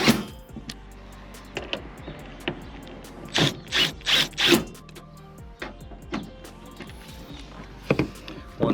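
A driver works T30 Torx screws while Rough Country Molle panels are installed, short bursts of scraping, ratcheting turns with a few stronger grinding runs in the middle, close and fairly loud, with light clicks between.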